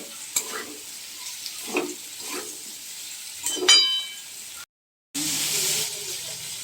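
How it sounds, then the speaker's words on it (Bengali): Potatoes stir-fried with turmeric and salt in a pan, giving a soft sizzle with several scraping stirs at irregular moments, near but fairly quiet, broken by a short dropout near the end. "সামান্য একটু হলুদ গুঁড়ো, লবণ আর হলুদ দিয়ে আলুটা এভাবে ভালো করে কষিয়ে নেব।"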